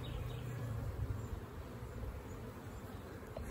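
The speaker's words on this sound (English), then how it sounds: "Their bees are really busy" Honey bees swarm busily around an outdoor hive during a spring nectar flow, their dense, steady buzz filling the air at close range with no pauses.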